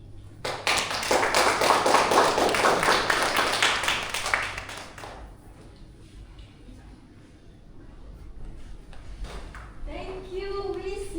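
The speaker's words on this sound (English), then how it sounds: "Can we get another round of applause for him?" Applause from the audience after a speech at a Toastmasters club meeting, loud and dense clapping for about five seconds that fades into quiet room tone, with a person speaking briefly toward the end.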